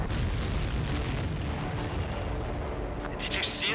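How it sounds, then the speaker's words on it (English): A missile hit in the air-combat video game Ace Combat 7 sets off a deep, rumbling explosion that rolls on steadily and loud, with a brighter burst of noise near the end. "Did you see that explosion?"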